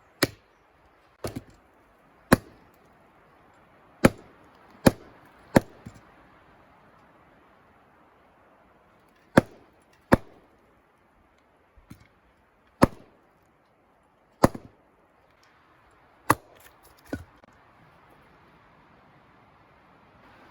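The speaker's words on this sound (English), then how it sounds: "The spruce is notoriously gnarly and difficult to chop, so I'm going to try chopping it" A lightweight Gurkha kukri chops into twisted, gnarly spruce wood: about a dozen sharp, separate impacts land at uneven intervals, loud and close against a quiet background, with no talking.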